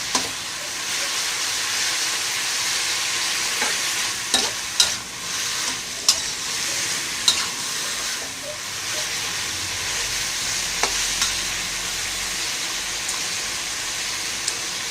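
Crispy pork and chayote shoots stir-fry in a hot pan, a steady loud sizzle and hiss broken by scraping clacks of the spatula tossing the food.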